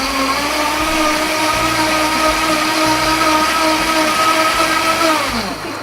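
A Vitamix blender runs steadily, blending homemade strawberry cream dog shampoo, its loud motor whine holding an even pitch and slowly climbing before easing off near the end, with no voices.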